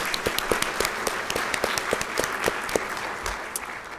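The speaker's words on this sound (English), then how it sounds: "Let's give them a round of applause." An audience at an ethics awards ceremony gives a round of applause, with steady, moderate clapping from many hands continuing throughout, individual claps standing out sharply.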